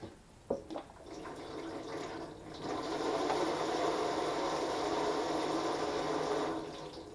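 Hot water sprays from a DIY backpacker shower after a couple of sharp clicks, settling into a steady hissing stream that runs for several seconds before tapering off.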